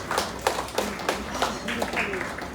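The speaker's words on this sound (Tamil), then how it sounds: "அனைவரும் கைத்தட்டி மகிழ்ச்சி வாழ்த்து சொல்ல வேண்டும்" Scattered handclaps from a small audience at the inauguration of a Malabar jewellery exhibition, irregular and fairly close, with low chatter underneath.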